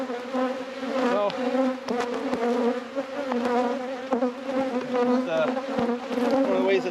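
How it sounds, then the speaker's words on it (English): A dense, steady hum of honey bees swarming over an open beehive with exposed brood comb, loud and close, with individual bees droning past now and then and no speech. "Nurse bees will all come right back up and cover up the brood"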